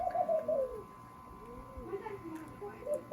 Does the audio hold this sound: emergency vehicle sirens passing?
no